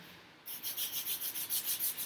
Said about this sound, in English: even me feeling comfortable with this heavier grit sanding paper, I'm going super careful